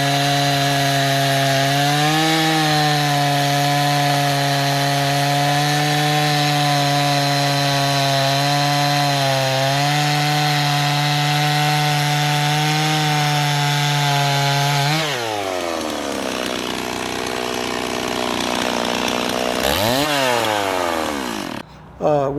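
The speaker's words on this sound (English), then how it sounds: "You just got to have something like this to sharpen the chain." A chainsaw chain is sharpened with a motorized tool whose steady whining hum holds an even pitch for a long stretch, then bends and wavers as the cutting load changes, close and loud throughout.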